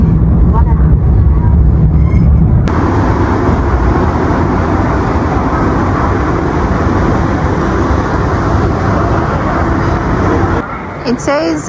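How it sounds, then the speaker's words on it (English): A bullet train rushes past at a Chinese railway station in Wenzhou, a loud, sustained broadband roar that cuts off abruptly near the end, with voices briefly audible afterward. "But I think that train is going to another city because that's a bullet train."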